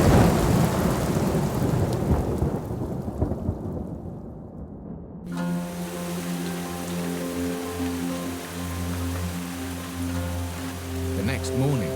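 A thunderstorm in the Amazon rainforest, with heavy rain pouring down steadily and thunder rumbling low. The downpour stays loud throughout, and a droning, tonal layer joins partway through.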